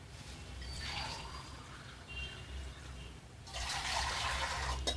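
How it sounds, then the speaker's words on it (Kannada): Hot water is poured back and forth between two vessels to cool it. It sounds like two close splashing pours, the second louder and fuller, with a quieter trickle between them. "ಈ ರೀತಿ ನೀರನ್ನು ಒಂದರಿಂದ ಒಂದಕ್ಕೆ ಎತ್ತು ಇದ್ದರೆ ಬೇಗ ನೀರು ಆರುತ್ತೆ"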